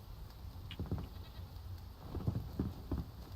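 Goats in the game Enshrouded bleat softly in a few short, wavering calls spread across the clip, faint against a steady background hiss.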